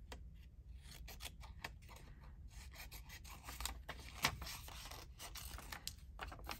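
Scissors snip through printed paper ephemera in a quiet craft session, giving a string of soft, quick cutting and rasping strokes close by with no talking.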